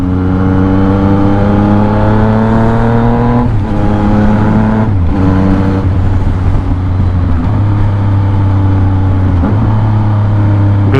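An XSR900 motorcycle engine revs loudly and continuously, pitch climbing through gears and dropping sharply with blipped rev-matched downshifts several times.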